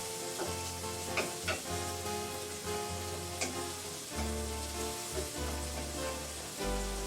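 Pancetta sizzles steadily in a hot pan, its fat crackling and popping in a continuous close hiss, with occasional clinks of a utensil and no talking.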